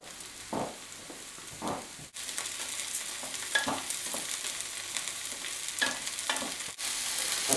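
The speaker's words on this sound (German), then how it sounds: "Das Olivenöl ist jetzt auch heiß und da tun wir gleich unsere Pilze rein." Porcini mushrooms frying in hot olive oil on a stove at full heat, a loud bubbling sizzle that swells as they go in, with stirring scrapes throughout.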